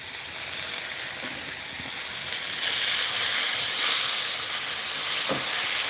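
Tomatoes dropped into a hot pan of stir-frying Chinese long beans, with a steady sizzling hiss that swells louder partway through and keeps going, close up and without talk.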